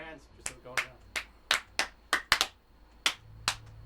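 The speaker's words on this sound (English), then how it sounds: "Clap your hands." Hands clap on a podcast set, about ten separate sharp claps in a loose, uneven rhythm, close and distinct against a quiet background.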